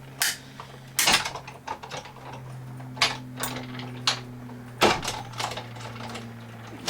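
A Big Shot die-cutting machine cranks a framelit through with a series of sharp mechanical clacks and ratcheting clicks over a steady low hum, irregularly spaced and close by.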